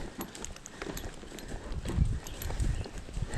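Horse hooves clip-clopping in a riding schooling session, a steady run of thuds at moderate distance that firms up toward the end, with soft background noise and a faint voice.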